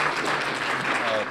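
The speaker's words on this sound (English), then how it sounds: "join me seriously in giving them another round of applause." Audience applause at an awards event honoring community unsung heroes, a steady wash of clapping filling the room for over a second before tapering off at the end.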